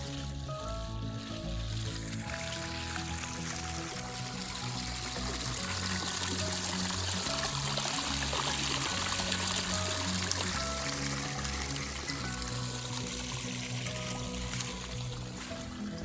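Water from a solar-powered pump pours steadily into a farm storage pond, a constant loud rushing stream that swells slightly midway, with a low mechanical hum underneath.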